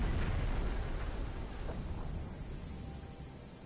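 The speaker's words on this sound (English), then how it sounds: "Torpedo impact." A torpedo striking a tanker in Silent Hunter 5, heard as a deep rolling explosion already underway that rumbles loudly at first and slowly fades over several seconds.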